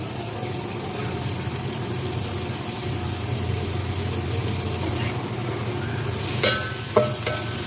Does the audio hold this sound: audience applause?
no